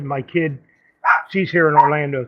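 A dog barks a few times close by, sharp yips cutting in between and over a woman's speech during a live talk stream.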